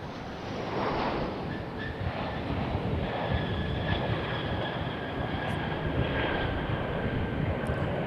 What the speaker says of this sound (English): American Airlines 2856 of Boeing 737-800, coming in from Miami, Florida